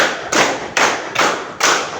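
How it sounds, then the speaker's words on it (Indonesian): Hand clapping in a steady counted rhythm, five loud, close claps evenly spaced, each a sharp broadband slap with a short decay, alone without talking. "Tepuk 1, tepuk 2, tepuk 3, tepuk 4, tepuk 5"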